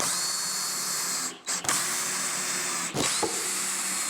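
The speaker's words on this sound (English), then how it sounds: "install some pocket holes on the back into that recently installed black piece" A power drill bores pocket holes into the back of a black wooden piece, a loud steady whine that briefly cuts out and restarts twice.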